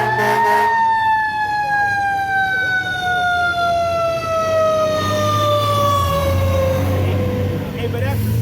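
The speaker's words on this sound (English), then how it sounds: "that's the siren" A loud emergency vehicle siren, probably a fire engine, wails in one long steady tone that slowly falls in pitch. It sounds close and fills the whole stretch, with traffic rumble underneath.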